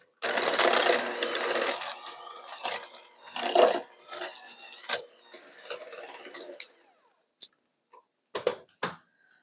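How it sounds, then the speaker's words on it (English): An electric mixer creams vegan butter on low speed with a loud whirring, rattling run for the first couple of seconds, then sporadic clatter and bumps that thin out into quieter knocks and silence. "I'm going to mix this on low to begin with and move it up to a higher speed until this turns light and creamy."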